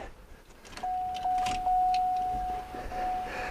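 A car's electric fuel pump primes in a no-start diagnosis with a steady high whine lasting a few seconds, accompanied by faint clicks and rustling nearby.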